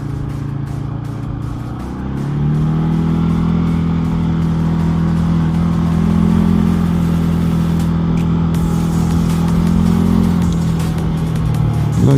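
A motorcycle rides over a gravel-strewn road in Normandy, its engine droning loud and close, rising as it pulls away after about two seconds and then holding a steady hum with a faint crunch beneath.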